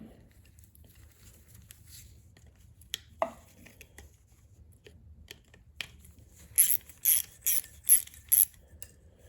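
A ratchet tightening a carburetor on a lawn mower, first a few scattered metallic clicks and taps, then four quick bursts of rapid ratcheting near the end, close and fairly loud.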